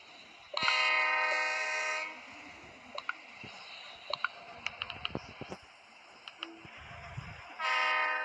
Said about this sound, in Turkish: tren geçiyor